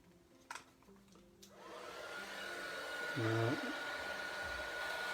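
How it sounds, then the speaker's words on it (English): A heat gun blows hot air over a handmade card, starting a couple of seconds in and building to a steady, close whooshing roar. "And then take your heat gun."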